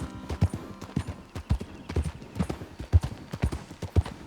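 Galloping horse hooves in Red Dead Redemption 2 pound out a fast, regular three-beat rhythm, close and punchy with heavy low thuds, riding alone without talk.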